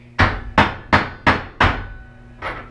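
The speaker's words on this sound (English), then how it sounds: "Bang it with the hammer." A hammer bangs five times in quick, even succession, then strikes once more after a short pause; each blow is a sharp, loud thwack with a brief ringing decay, and no voices are heard.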